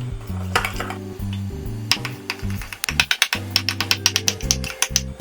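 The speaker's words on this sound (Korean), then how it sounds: "겨자를 개실 때는 이렇게 밥공기 있죠? 조그만 밥공기에다가 개어주시고" Mustard powder is mixed with lukewarm water in a small rice bowl, making close, irregular clinks and scrapes of a utensil against the bowl that quicken into a rapid, rhythmic tapping near the end.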